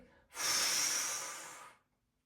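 A single sharp, forceful exhale through the nose and mouth during a bodyflex breathing exercise, lasting about a second and a half, close and alone, then quiet.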